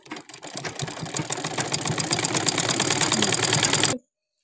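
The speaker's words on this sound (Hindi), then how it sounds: "अब इस पे सिलाई लगानी है हम।" A sewing machine runs continuously for about four seconds, stitching trouser fabric with a steady, rapid mechanical whir that builds slightly in loudness before stopping abruptly.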